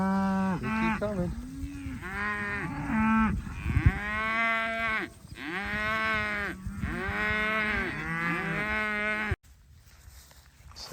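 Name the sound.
dairy cows mooing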